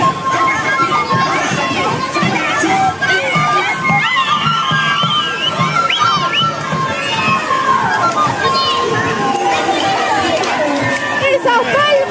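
A loud festival crowd at Pukllay 2025 in Cusco's Quispicanchi area clapping, shouting and cheering, a dense continuous roar with children's voices and chatter mixed in.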